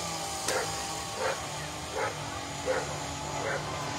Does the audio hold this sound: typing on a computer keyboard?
no